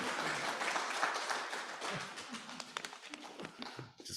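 An audience at a poetry reading breaks into applause, a dense patter of many hands clapping close by that thins into scattered claps toward the end.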